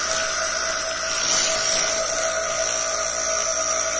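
A high-speed steel drill bit is pressed against a bench grinding wheel for sharpening, giving a loud, continuous high-pitched whine with a steady grinding hiss at close range and no talking.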